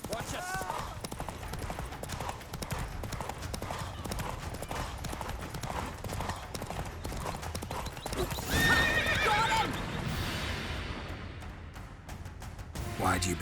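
Geralt's horse Roach in The Witcher 3 gallops with fast, loud, steady hoofbeats and whinnies clearly, under game music and dialogue.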